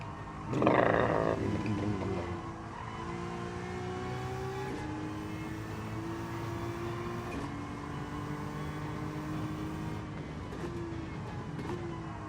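A race car engine in the Gran Turismo 7 driving game snarls hard at first, then holds a steady, high revving drone, stepping through upshifts every couple of seconds as it accelerates.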